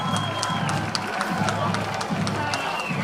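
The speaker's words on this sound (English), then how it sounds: "it's time to celebrate for this homecoming crowd here in Belmont" A homecoming high school football crowd in Belmont cheers and shouts in the closing minute of the game, a loud, sustained roar of many voices with whistles and scattered yells throughout.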